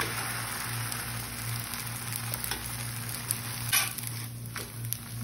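Steady hiss and crackle of rava dosa sizzling in a hot pan as it is flipped, close and continuous with a few brief scraping taps, no voices.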